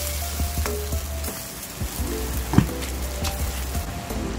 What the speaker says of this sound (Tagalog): Mix lang natin yung ating spaghetti sauce